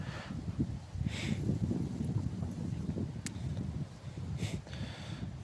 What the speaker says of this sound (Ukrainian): Ще й вітер дує вздовж його.